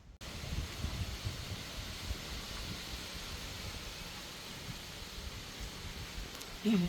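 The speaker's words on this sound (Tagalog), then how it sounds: "Lakas ng hangin." Steady gusting wind roars across the microphone, a broad rushing noise that stays strong throughout, with a faint knock near the end.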